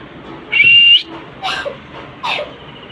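A myna gives a clear, loud whistle followed by two short, speech-like chirps, close and alone without human talk.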